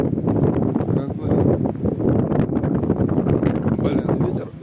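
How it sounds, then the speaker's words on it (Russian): Gusty wind buffets the microphone among rocky crags in Germany's Harz mountains, a loud, continuous low rumble and rustle rising and falling throughout. "Блин, ветер поднялся."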